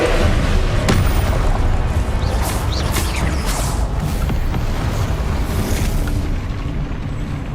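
Confringo fire spells explode in a Hogwarts Legacy battle, a dense continuous roar of blasts and crashing impacts filling the scene loudly with scattered sharp bursts on top.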